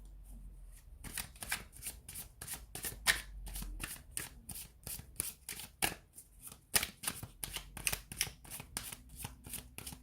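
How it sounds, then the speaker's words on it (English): Tarot cards are shuffled by hand in a quiet room, a long run of rapid crisp riffling flutters with brief pauses between bursts, close and fairly soft. "give the cards a shuffle"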